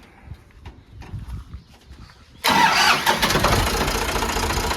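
A Ford 3600 tractor's diesel engine cranks and catches abruptly after a couple of seconds of quiet background knocks, then settles into a loud, steady close-up idle rumble.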